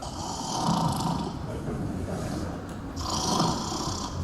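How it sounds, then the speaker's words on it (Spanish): A person asleep during a sleep study snores loudly in two long rasping breaths, the second starting after a short pause, heard close up. "Ahí está roncando."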